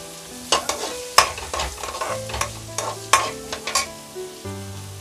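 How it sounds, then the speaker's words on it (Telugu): Finely chopped green chillies drop into a hot pan with a soft sizzle, followed by several sharp stirring scrapes and clinks at an irregular rhythm, close and moderately loud, with no talking. "పచ్చిమిర్చి కూడా వేస్తున్నాను సన్నగా కట్ చేసింది"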